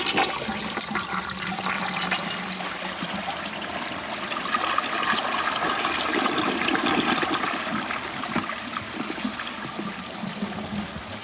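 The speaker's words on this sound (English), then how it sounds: "Here's a overfilled flush." An overfilled flush of a 1980 Eljer Emblem siphon-jet toilet: a loud, continuous rush of water that swells and churns for over ten seconds, heard up close with no talking.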